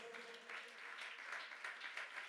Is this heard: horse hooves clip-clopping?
no